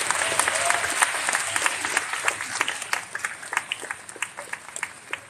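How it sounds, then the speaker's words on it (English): An audience applauds a man on stage, clapping loud at first, then thinning into scattered individual claps toward the end. "Yeah, but a clap for this man."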